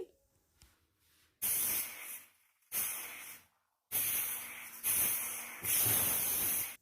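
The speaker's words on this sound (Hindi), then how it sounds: "कुकर में 5 सीटी आ गई" A pressure cooker cooking carrots on a medium gas flame whistles in repeated loud hissing bursts, five in a row, separated by short near-silent gaps.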